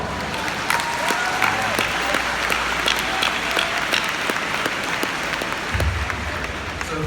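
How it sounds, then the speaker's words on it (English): Graduation audience in a high school commencement crowd claps steadily, a moderate, sustained wash of applause with faint voices mixed in. "Let's give them all a round of applause."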